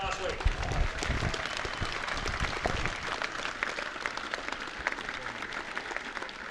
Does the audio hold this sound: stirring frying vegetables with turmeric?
no